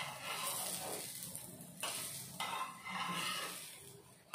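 Crispy beet cutlets lifted from a hot pan onto a plate, with a soft sizzle beneath scraping and light clinks of a spatula against the pan, several short close strokes with brief pauses between.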